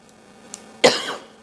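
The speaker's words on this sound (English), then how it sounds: "I've got a cough as well." A single sharp cough bursts out near and fairly loud, with a short rasping tail, after a faint earlier catch of breath on an otherwise quiet line.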